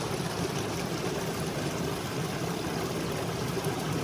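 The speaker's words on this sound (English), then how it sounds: "Water rushes out right there. Flows about 6 feet and goes back in." Water gushes out of the ground beside an Appalachian Trail path, a steady close rushing flow that holds constant without pause.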